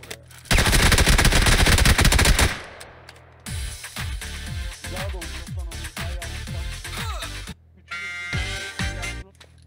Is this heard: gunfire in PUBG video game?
yes